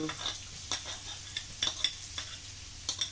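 Lots of garlic hits a very hot pan for buttered shrimp, a soft continuous sizzle broken by quick spoon scrapes and taps against the metal, close but fairly quiet, no voices.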